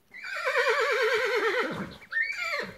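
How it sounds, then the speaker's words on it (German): A horse whinnies in a long, loud, quavering neigh, followed by a second shorter rising whinny, part of a Playmobil stable episode where the sound may be a recorded effect. "Kommt, wir führen die Pferde raus."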